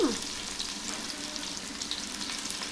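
Ingredients fry in a pan for bagara chicken curry, giving a steady, dense sizzle close by that holds evenly throughout with no break.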